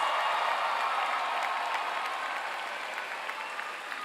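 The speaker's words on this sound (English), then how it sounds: "Please join me in a round of applause for this awesome class of 2025." A large audience applauds the graduating Class of 2025 at a Georgia Cyber Academy ceremony, steady dense clapping that stays loud throughout and fades slightly toward the end.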